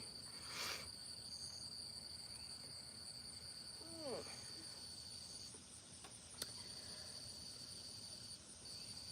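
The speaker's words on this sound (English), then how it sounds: "I know you can hear the crickets." Crickets chirp in a steady high insect chorus outdoors, faint and continuous, with a few brief higher calls and a soft bird-like chirp partway through.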